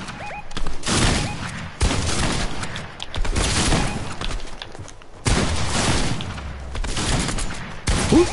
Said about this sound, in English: Who's fucking shooting me?